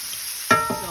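Tomatoes dropped into hot meat grease in a pan, a sudden burst of sizzling with a brief stir that fades to a steady crackle within a second.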